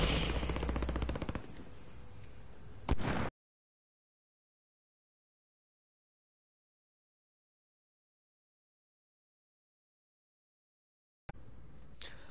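Gunfire rattles in Warzone as rapid automatic bursts, loud and dense at first, then a sharp crack, followed by a long stretch of total silence and a brief return of noisy firing.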